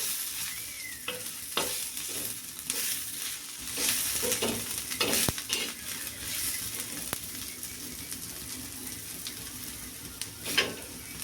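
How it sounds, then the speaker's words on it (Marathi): Onions browned in oil, sizzling steadily in a pan while a spoon stirs them, with repeated scraping strokes and clinks rising over a constant frying hiss, close and moderately loud with no talking. "आता याच्यावर टाकणार मी तेल, आणि याला परत हलवून घेणार।"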